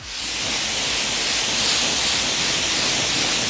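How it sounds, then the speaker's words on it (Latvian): A motorcycle is rinsed clean with water spray, a steady close hiss of water jetting over the bike with no talk. "Un tagad skalojam nost."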